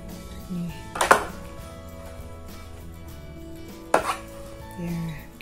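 Roti jala dough being slapped and beaten in a bowl, two distinct thumping slaps a few seconds apart, close and fairly loud against a quiet kitchen background.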